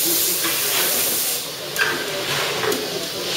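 Steady hiss of steam venting from brewing equipment at the Geurs Museum brewery during a brew day, a continuous broadband rush with a few brief louder bursts, heard close against busy indoor ambience.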